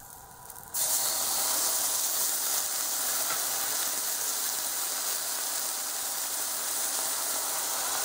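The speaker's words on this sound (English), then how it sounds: "The eggplant has been browning for a minute, so I'm going to add some rice wine vinegar," Browning eggplant in a hot pan bursts into a loud, steady hiss and sizzle the moment rice wine vinegar is poured in, staying strong and close for several seconds after a quieter start.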